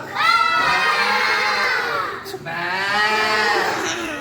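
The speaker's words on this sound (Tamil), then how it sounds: "அப்போ இங்க மாடு கத்துது" Long drawn-out bellowing moos, loud and close, one sustained call followed by another after a brief pause.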